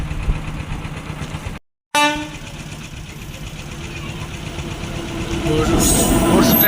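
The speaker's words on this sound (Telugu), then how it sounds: "Goods train." A goods train passes a railway crossing, producing a low mechanical rumble with droning engine tones that swells louder and harsher toward the end.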